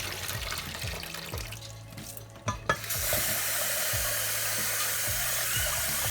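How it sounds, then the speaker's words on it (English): Rice being rinsed in water to wash out the starch: soft sloshing and swishing with a few clunks, then a steady rushing of running water, moderately close. "I'm just washing out some of the starch, like so, from the rice"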